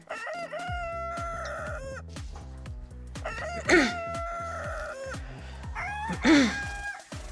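Chickens cluck and a rooster crows twice, loud and close, over a steady run of cartoonish music with stepping notes in the background.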